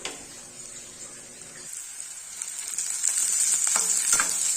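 Sliced bitter gourd sizzles and fries in a pan while being stirred, a constant crackling hiss that grows louder and brighter toward the end, with scraping stirs.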